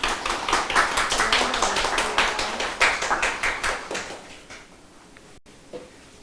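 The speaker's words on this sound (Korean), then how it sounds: "큰 박수로 환영해 주십시오." An audience applauds to welcome a featured travel photographer at a Korean photography class event, steady dense clapping for about four seconds that gradually fades to a few scattered claps.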